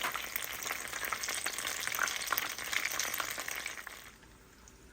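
Food with jackfruit frying in a pan, a steady close crackling sizzle that fades toward the end, with no talk.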